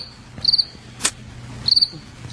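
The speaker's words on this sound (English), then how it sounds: "More crickets, huh?" Crickets chirping in short rapid pulsed bursts, three trills spaced across the stretch, moderately close against a quiet background with a faint thump in the middle.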